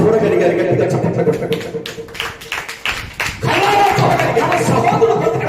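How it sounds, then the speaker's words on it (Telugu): A church congregation claps loudly, with brisk, sharp hand claps swelling through the middle of the passage, mixed with voices talking and a busy room sound. "గట్టిగా చప్పట్లు"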